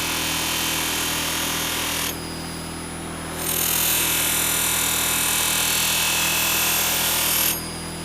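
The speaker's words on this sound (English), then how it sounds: "If you can see a shadow between your blade and the buffing wheel, that means you're not buffing clear to the edge." A motorized buffing wheel sharpening a leather head knife, a steady whirring hum broken by two bursts of brighter, hissing friction as the blade presses to the wheel, the second burst longer, close and alone.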